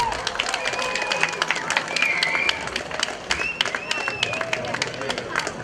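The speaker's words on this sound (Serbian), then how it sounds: "i zato jedan veliki aplauz za njega" Audience applause for a singer at the Pile Fest 2018 concert in Žitište, dense sustained clapping from a large crowd, loud and continuous, with a few cheers and whistles mixed in.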